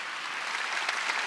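Brief applause from a church audience during a Korean Wednesday worship service, a soft wash of clapping that builds slightly before cutting off.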